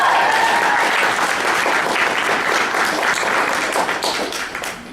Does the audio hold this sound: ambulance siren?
no